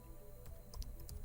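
A few quick keystrokes tap on a computer keyboard, faint and close, in a brief burst.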